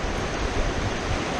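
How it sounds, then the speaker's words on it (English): White-water rapids on the Sauk River rush in a steady, loud, dense roar close by, with no pauses and no voices. "So we're getting into a nice little stretch of rapids here."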